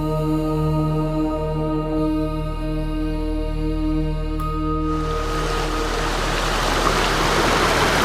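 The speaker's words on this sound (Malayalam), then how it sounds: "അടിപൊളി ഒരു വെള്ളച്ചാട്ടം." A waterfall near the Tirubali Sri Mahadeva temple at Ezhakkaranad in Ernakulam, heard as a steady broadband rush under low electronic tones. The rush swells noticeably louder partway through and holds there.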